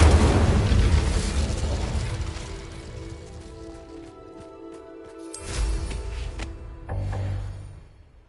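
Incendio fire spell cast in Hogwarts Legacy: a loud fiery burst that fades into a low crackling rumble, followed by two more sharp bursts of flame partway through.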